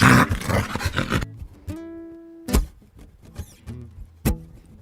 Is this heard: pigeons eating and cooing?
no